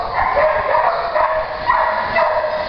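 An 8-month-old, 18-pound Puggle barks in a run of sharp, close yips and bow-wows, loud and repeated with short gaps, with no talk over them.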